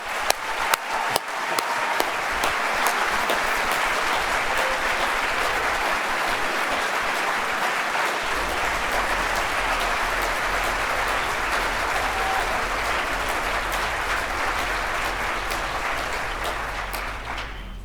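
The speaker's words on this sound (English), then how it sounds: "So now I want to applaud you" Sustained audience applause at a school district professional development gathering, a dense, loud wash of many hands clapping that holds steady for the whole stretch, with a few sharper individual claps at the start.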